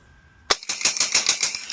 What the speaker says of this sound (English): just from being able to do those quick shots like that.